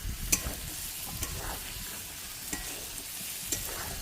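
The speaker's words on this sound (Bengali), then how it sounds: "এবারে একটু ঢাকাটা খুলে নিয়ে আবার সুন্দরভাবে নাড়াচাড়া করতে হবে।" A chicken and potato curry with cashew paste is stirred in an uncovered pot, the spoon scraping and clinking in irregular bursts over a constant soft sizzle, with no one talking.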